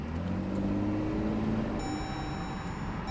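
Modded Jeep with an upgraded intake and exhaust, driving at night, giving a steady low engine rumble throughout, fairly faint and even with no clear revving, and no talking.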